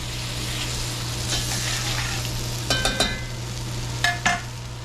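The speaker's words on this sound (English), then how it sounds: "We're going to add a couple of tablespoons of tomato paste. Stir that in." Tomato paste stirred into a frying pan while making duck à l'orange, a steady sizzle with a low hum beneath and a few sharp scraping clicks of the utensil toward the end.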